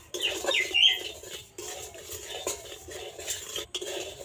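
Dry semolina with cumin and chopped dried chilli being stirred in a pan, close scraping and clinking of a utensil in short irregular strokes, with faint bird chirps in the background and no talk.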